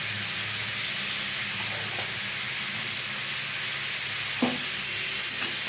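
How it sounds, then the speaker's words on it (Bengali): Spices stirred into a pumpkin and potato curry in a pan, a steady sizzling hiss with a few soft scrapes and knocks of the spoon against the pan. "এবার ভালো করে কুমড়ো আলুর সাথে মিশিয়ে নিলাম।"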